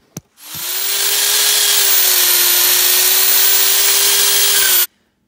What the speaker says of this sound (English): first things first, drill holes, glue it.